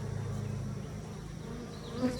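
A dense, steady hum of honey bees fills the air around a well-established hive, with low droning wings close by and an occasional bee passing nearer, and no talking.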